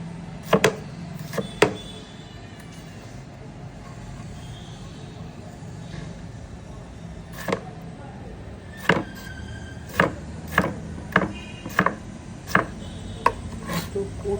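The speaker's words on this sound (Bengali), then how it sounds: "কাঁচামরিচ কাটায় আসবে, জাস্ট আমি নিয়ে কেটে দিয়ে দেবো। হালিমের জন্য কাটছি কিন্তু।" Green chillies chopped with a knife on a board for haleem, a run of sharp, separate chops, a few early and then a steadier series of about a dozen crisp knocks over a continuous low background hum.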